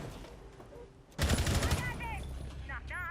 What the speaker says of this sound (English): it's not the first grenade suicide we've seen today